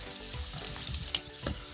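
Radhaballavi, a stuffed puffed flatbread, sizzles and bubbles as it puffs up while deep frying in hot oil, with brief crackling bursts close by and no one talking.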